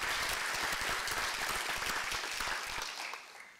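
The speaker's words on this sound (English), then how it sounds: "Let's give them a quick round of applause, please." A room applauds the Honor Guard at a school board regular session, dense steady clapping from a sizeable audience that holds strong before thinning and fading toward the end.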